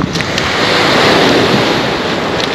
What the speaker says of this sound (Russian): Море, в принципе, спокойное, желающие могут поплавать.